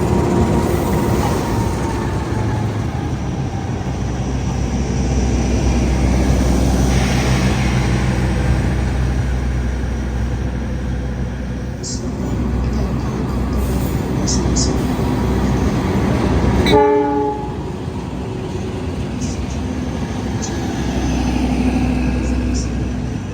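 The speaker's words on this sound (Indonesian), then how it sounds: "Yang masuk di jalur 3 adalah rangkaian kereta api Sembrani dari stasiun Gambir tujuan stasiun Surabaya Pasar Turi." Sembrani passenger train pulling into platform track 3 at Jakarta Gambir station, a steady loud rumble of wheels and carriages with a brief clank partway through, under a busy station background and intermittent voices.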